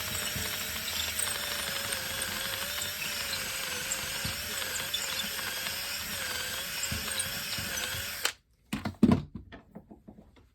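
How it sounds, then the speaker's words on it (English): A drill bores into an antler knife handle with a continuous high whine for about eight seconds, then stops abruptly, followed by a few scattered knocks and clicks. "We drilled deeper than this tang."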